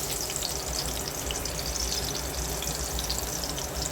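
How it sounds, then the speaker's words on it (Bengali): Sliced eggplant coated in turmeric and chili sizzles steadily in hot oil, a dense, even crackling hiss that stays close and constant throughout with no voices. "একটা বেগুন আমি কেটে নিয়েছি, হলুদ মরিচ দিয়ে মাখিয়ে নিয়েছি, তেলের মধ্যে ভেজে নেব"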